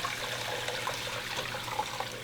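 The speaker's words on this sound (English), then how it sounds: "When cool, pour the broth through a sieve or colander." Homemade broth poured through a sieve or colander, a steady close trickle and splash of liquid running continuously with no talk.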